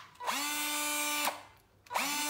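A power drill with a hammer mode, set to its slow speed, whirs in two steady bursts with a brief dip between them, loud and close, with no voices.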